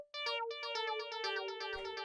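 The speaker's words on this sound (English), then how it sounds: "So the next thing we've got here is the lead, which sounds like this." A futuristic techno synth lead plays a quick run of bright, buzzy, harmonically rich notes in a steady rhythm over a held tone, alone and clear.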